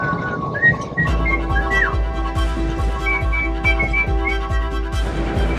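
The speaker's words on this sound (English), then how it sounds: "And there's just plain old simple whistling." A person whistles a wandering tune in short notes and slides over a steady rhythmic thumping, with road or engine rumble underneath.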